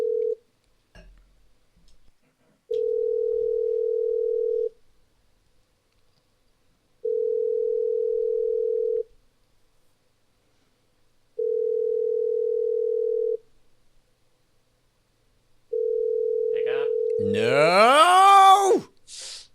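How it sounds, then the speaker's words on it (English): A phone call placed to a friend, with four long, evenly spaced steady ringback tones and silent gaps between them, ending as the call connects to a voicemail voice. "So let's go ahead and dial him up."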